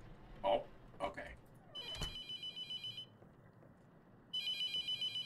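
A telephone rings in a spooky video game set at a first job, two bursts of rapid electronic trilling separated by a pause, after a few knocks and thuds, fairly close and clear.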